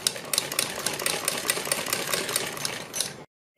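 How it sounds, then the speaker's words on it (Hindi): A sewing machine stitches a neck design, making a fast, steady rattling chatter with rapid ticking needle strokes throughout, ending abruptly when it stops just before the end. "ऐसे तब हम इसके ऊपर सिलाई लगाएंगे।"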